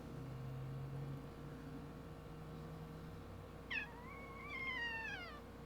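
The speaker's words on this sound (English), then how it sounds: "Don't you meow at me." Pet cat meows twice in a quiet room, one short call then a longer drawn-out falling meow, close and clear over a faint low hum.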